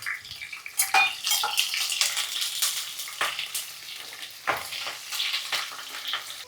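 Chopped onions hit hot oil in a pan for a soya chunks dry fry, giving a bright continuous sizzle broken by sharp crackles and spatters, close and alone without talk.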